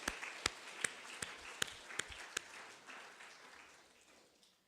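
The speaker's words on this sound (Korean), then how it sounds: "격려의 박수 한번 하겠습니다." Congregation clapping at a Korean church New Year's Eve service, quiet and distant, a slow run of single sharp claps spaced evenly before fading into a soft room hush.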